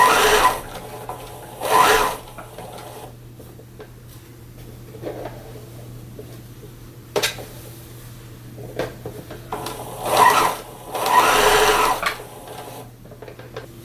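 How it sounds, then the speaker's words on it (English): Sewing machine stitching the bodice to the skirt of a Star Wars-style jacket, heard in short close bursts of rapid whirring separated by quiet pauses, with no talking. "So I just have to sew that in place on both the left and the right side."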